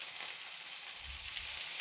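Spring vegetables sautéing in a little olive oil in a pan for garlic shrimp, a soft, steady sizzle that stays faint and continuous throughout.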